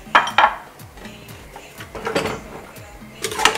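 Onion and peppers being stirred into tomato sauce in a pot, a few clanking knocks of a spoon against the metal followed by softer scraping strokes, close and unaccompanied by talk.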